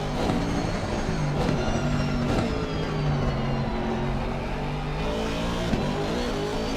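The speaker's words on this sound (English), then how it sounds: "As you can see, Sven, again, making up all that time he lost at the top of the hill right there in that braking zone." Several GT race cars lap the Bathurst circuit in a sim racing game, their engines droning at high revs and layered together, pitch rising and falling through gear changes in a dense, continuous roar with no talking.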